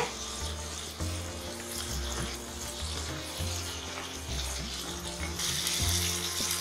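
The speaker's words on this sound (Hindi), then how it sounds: "पनीर के पीस डाल देंगे और आंच को तेज कर देंगे और लगातार चलाते हुए हमने इसको दो मिनट तक पकाना है" Paneer pieces and spices fry over high heat in a pan, giving a steady sizzle broken by repeated scraping stirs at a regular pace, close and fairly loud with no talk.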